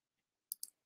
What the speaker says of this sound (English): Just clicking on more comments so I can see them all.